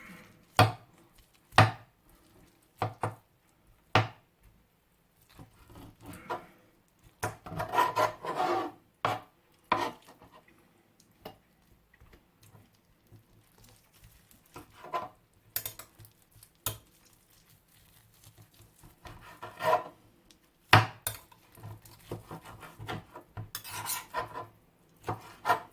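Knife chopping and carving through soft, well-cooked meat to trim away fat, with sharp, irregular knocks against a board, some single and some in quick bursts, fairly close, separated by quiet gaps.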